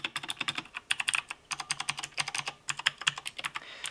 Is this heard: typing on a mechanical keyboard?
yes